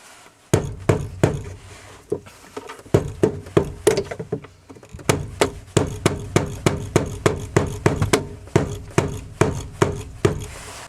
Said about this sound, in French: on va se prendre le tournevis plat et on va venir se caler sur ces rainures pour enlever la bague.